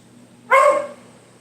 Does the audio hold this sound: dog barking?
yes